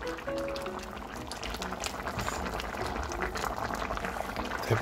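A pot of sardines and bracken fern in a braising sauce bubbles steadily at a simmer, a continuous close, moderately loud boil with no talk.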